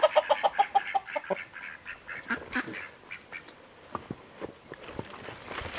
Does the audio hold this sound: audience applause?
no